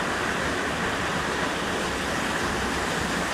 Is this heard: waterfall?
yes